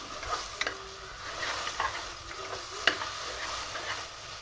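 Ginger garlic paste sizzles softly in a hot pan, with light scraping stirs and a few clinks of the spoon against the metal, quiet and close with no voices.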